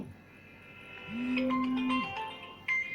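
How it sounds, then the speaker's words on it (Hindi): An incoming call ringtone sounds from a phone, a short melodic electronic tone of a few rising and falling notes over a quiet room background, faint but clear. "गुरु जी का फोन आ रहा है"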